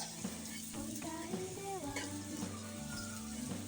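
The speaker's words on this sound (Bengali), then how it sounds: "পেঁয়াজটা আমি বেরেস্তা করে নিব।" Onions frying in a pan to make birista for chicken korma, giving a continuous close sizzle with some stirring noise and a few faint tonal sounds in the background.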